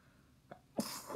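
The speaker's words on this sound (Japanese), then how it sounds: "くしゃみ出そう。" One sneeze from a woman, a short inhaled catch followed by a sharp burst of breath, close and clear against a quiet room.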